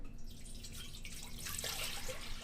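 Two cups of water pouring into a cooking pot for smothered chicken and rice, a steady splashing trickle that runs continuously and grows brighter toward the end, with no talking over it.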